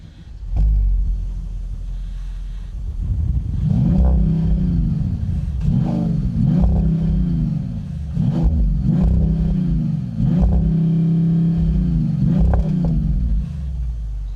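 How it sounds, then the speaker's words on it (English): A 2025 Mercedes-AMG E53 Hybrid's six-cylinder turbo engine idles and revs repeatedly in bursts, each rev rising and falling, with a deep steady rumble underneath; close and loud, no talking. "that 6-cylinder turbo is not a bad sounding engine"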